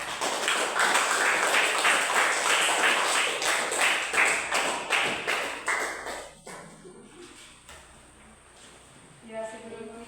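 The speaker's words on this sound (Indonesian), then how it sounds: "beri tepuk tangan dulu" Students in a classroom break into applause, a dense run of many hands clapping for several seconds that thins out and stops, followed by quieter room sounds and a few voices.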